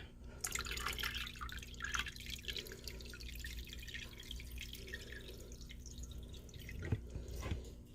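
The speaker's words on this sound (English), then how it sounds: "I'll pour the last part of water inside of the tank" Water poured from a bucket into a betta fish tank gives a soft, steady trickle and splash with a few sharper drips near the end, faint and close, no voices.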